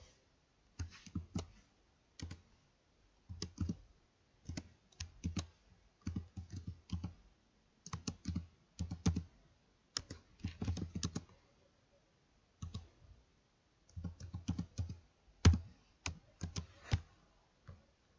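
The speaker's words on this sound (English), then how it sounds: "just click on word art, type in the message" A computer keyboard being typed on in short bursts of quiet, crisp clicks separated by pauses, with occasional mouse clicks, close and alone in a silent room.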